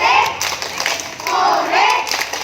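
Kindergarten children clap in unison along with a classroom clapping chant, steady bursts of handclaps mixed with their chanting voices.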